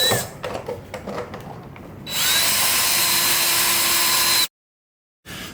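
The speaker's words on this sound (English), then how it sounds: "So now I'm just gonna go ahead and drill that other side out to 1/2 inch." After some clattering handling noises, a power drill spins up and bores holes out to 1/2 inch on a Jeep Cherokee XJ, a loud steady whine lasting a couple of seconds, then cuts off before briefly restarting.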